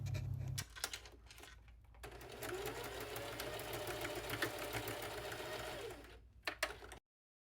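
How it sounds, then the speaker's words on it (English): A home sewing machine runs a steady, fast stitching burst of several seconds while sewing a skirt seam from an old bed sheet, with brief pauses and clicks at the start and end and no talking. "then you just continue to sew."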